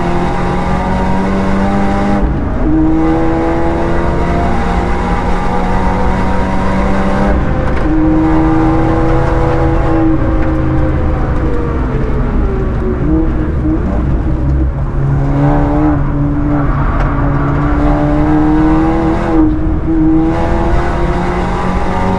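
Seat Ibiza Cupra fitted with a big rear wing, driven hard around the Nürburgring, its engine droning loud and steady from inside the car, pitch climbing and dropping through the gears, with a brief tire squeal.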